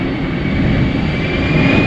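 An American Airlines jet airliner on landing approach, its engine roar steady and loud throughout, a broad continuous rumble close overhead with no talk.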